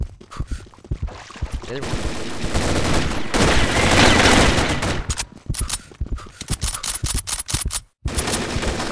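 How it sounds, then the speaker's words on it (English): Gunfire in the online shooter Combat Arms during a clan war, rapid machine-gun bursts and a sustained fusillade, loud and close, with a voice talking intermittently under the shooting. "somebody shot"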